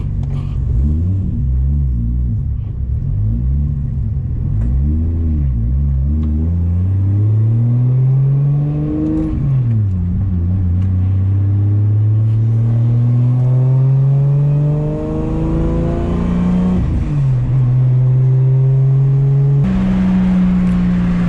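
A 700-horsepower 2JZ-swapped Nissan 350Z on stock cams revs hard while driving, a loud, close engine note climbing and dropping through repeated gear changes and throttle blips, with steady rumble throughout and no talking.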